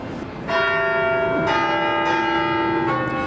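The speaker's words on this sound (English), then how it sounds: "Just don't be dismayed that the bells are now rung electronically." Electronically rung bells of Notre Dame Cathedral in Paris strike loud, close, sustained tones that ring on and overlap, with new strikes about every second, and no voices.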